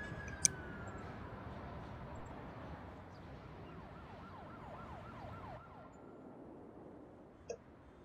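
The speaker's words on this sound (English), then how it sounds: "We have quite a few ambulances in that tiny clinic." Ambulance sirens wail in the Cities Skylines city-building game around a small clinic, steady rising-and-falling tones over a dense, continuous city traffic bed, with a couple of brief sharp clicks.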